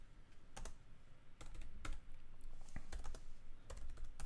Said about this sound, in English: so I'm going to type in git